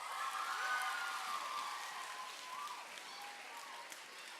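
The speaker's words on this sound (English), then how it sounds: "it's a good thing you clapped for her or him" Book-fair audience clapping for their teachers, a broad sustained patter of hands with faint voices mixed through it.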